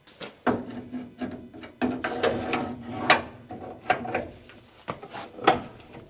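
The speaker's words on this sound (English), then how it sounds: "we're going to just very quickly get the crank and turn this by hand" A 1965 barn-find engine is turned over by hand with a crank, giving a series of separate mechanical clunks and ratcheting clicks, close by, spaced irregularly about a second apart.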